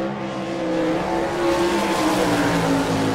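A sprint car with a Jacobs Honecker Eagle chassis and Kreiner engine screams around the dirt oval at Rossburg, Ohio during qualifying, its loud sustained engine note shifting in pitch as it circles the track.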